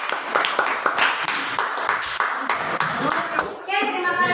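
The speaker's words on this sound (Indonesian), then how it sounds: "Tepuk tangan buat kelompok 1." A classroom group claps for the first presenting group, scattered hands forming a modest patter of applause with some voices mixed in, ending in a brief tonal ping.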